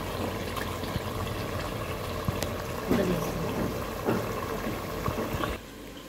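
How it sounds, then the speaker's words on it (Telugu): Water streams into a cooking pot for chicken tahari with a continuous rushing splash, broken by a few sharp knocks and clatters. "మనం వాటర్ వేసుకుందాం"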